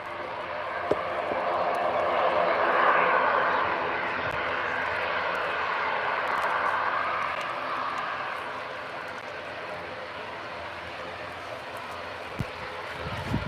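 An Eastern Airways plane approaching to land at Birmingham airport, a sustained engine roar that swells and then slowly fades at a moderate distance.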